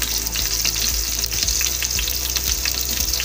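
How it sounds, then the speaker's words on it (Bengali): Potatoes frying in hot oil seasoned with salt and turmeric, a loud continuous sizzle close by with occasional stirring clinks and scrapes. "তেল আমার গরম হয়ে গেছে, এবারে আমি আলুটা ভেজে নিচ্ছি।"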